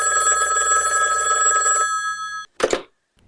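A telephone rings loudly with a steady bell tone for about two seconds and then stops, followed by a short burst of handling noise and then near silence.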